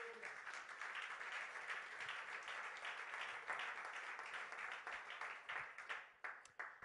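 A church congregation breaks into sustained applause, many hands clapping steadily at a moderate distance before the clapping thins out and breaks into scattered final claps.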